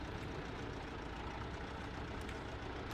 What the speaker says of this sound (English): we're going to park our tractor